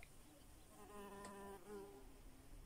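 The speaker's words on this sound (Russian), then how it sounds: "Еще и шмель залетел." A bumblebee buzzes inside a greenhouse of flowering cucumber plants, its faint, steady drone swelling for about a second before fading back under quiet room noise.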